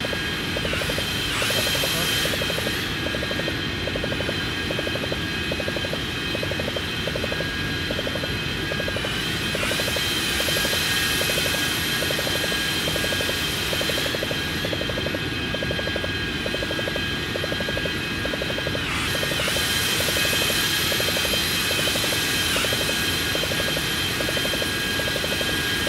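A loud, steady propeller-type aircraft engine drone in the X-Plane 12 flight simulator, heard from outside the plane as a continuous roar with a throbbing rhythm and no talking.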